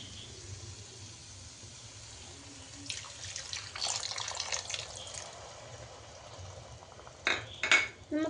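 Water is poured from a vessel into a pan of cooking mushroom curry, giving a soft splashing rush for a couple of seconds, followed by sharp metallic clinks of a utensil against the pan.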